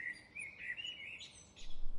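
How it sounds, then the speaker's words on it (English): Thin, high chirping birdsong in short phrases, fairly faint, with a couple of brighter calls toward the end over a quiet background. "I like the birds singing in the trees"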